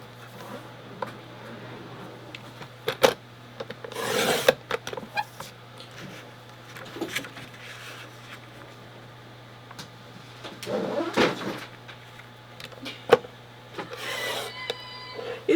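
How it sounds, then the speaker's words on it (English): Designer paper being cut into 2-inch strips, repeated short scraping and slicing strokes in bursts with quiet gaps between, close up and with no talking. "we're going to cut 2 strips at 2 inches"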